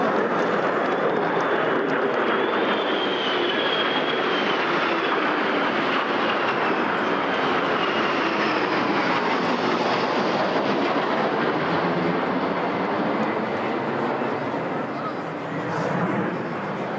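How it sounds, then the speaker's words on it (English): A Rivet Joint reconnaissance jet escorted by two Lightning fighters roars overhead during a VE Day 80th anniversary flypast at Buckingham Palace, a loud sustained engine rumble with a sweeping whine, steady throughout before easing slightly near the end. "The after roar of those engines as they turn"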